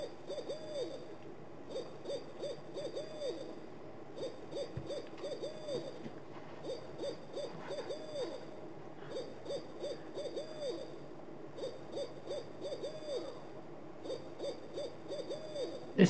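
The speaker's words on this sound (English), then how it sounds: "This noise is making me go to sleep. Sounds like an owl or cuckoo, whatever it is." Steady owl-like hooting repeats in rhythmic bursts throughout, heard as background sound during a live retro gaming stream, with no talk over it.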